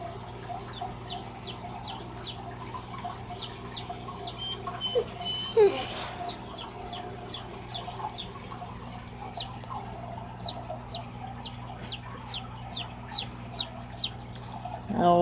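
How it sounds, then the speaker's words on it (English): A rescued baby chick screams repeatedly, giving rapid, high, piercing peeps in short bursts that continue throughout, loud and close over a low background hum. "It'll take a good day for this baby chick to mellow out. She'll probably be screaming for a few hours"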